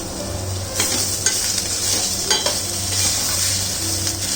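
Curry leaves and fresh mint frying in a pan for keema, with a loud, continuous sizzle and crackle and occasional spoon scrapes against the pan, no talking.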